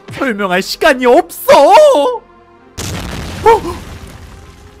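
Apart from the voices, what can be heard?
explosion outside in Minecraft video game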